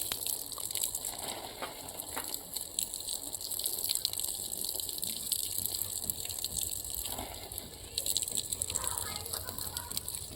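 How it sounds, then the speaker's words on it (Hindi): Water flows weakly from a pipe into vegetable garden beds planted with eggplant, a steady, soft gushing wash that runs throughout. "पानी काफ़ी कम मात्रा में आ रहा है"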